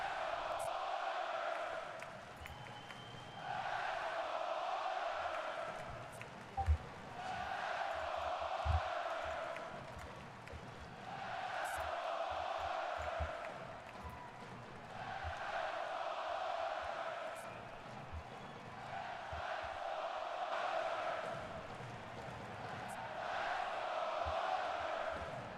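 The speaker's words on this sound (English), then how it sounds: "And the crowd chanting here." A hockey crowd in an Edmonton arena during a Stanley Cup Final game between the Oilers and the Florida Panthers chants in steady rhythmic waves, faint and distant throughout.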